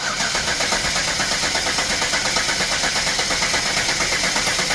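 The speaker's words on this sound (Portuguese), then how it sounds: "Seu Hélio, dá partida aí." A Hyundai Veracruz 3.8 V6 with a cylinder head problem turns over and runs close by, loud and even, with a fast regular pulsing engine beat and no talk over it.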